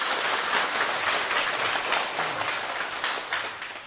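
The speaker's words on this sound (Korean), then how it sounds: "박수 한번 주세요" An audience at a lecture claps together in a steady, moderately loud round of applause that holds for several seconds and then eases slightly, with no voices over it.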